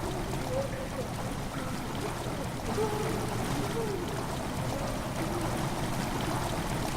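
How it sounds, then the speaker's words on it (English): Water steadily fills a stone chamber in Amnesia: The Dark Descent, a continuous rushing, gurgling flow with no breaks and a little faint voice in the background. "Water has begun to slowly fill the chamber."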